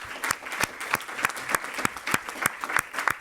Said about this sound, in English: I just want to have a big round of applause to all of you for contributing and participating.